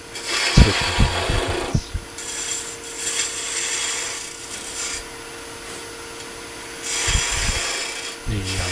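Wood being beveled on a lathe with a spindle mount, a gouge scraping and rubbing in long rasping passes with a few sharp knocks at the start and end.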